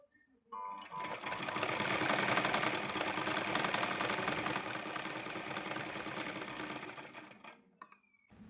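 Sewing machine stitching Khan cloth for a double-layer guddi, a continuous fast mechanical whir running for several seconds, close and steady, starting and stopping abruptly.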